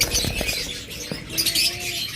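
A pet lutino opaline bird pair gives short chirps and calls close by, with brief fluttery bursts mixed into a busy background.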